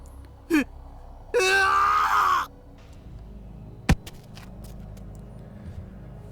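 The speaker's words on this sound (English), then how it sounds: "let out a pathetic scream" A visual novel game character lets out a short, loud, strained scream lasting about a second, preceded by a brief yelp and followed by a sharp thud and quiet room tone.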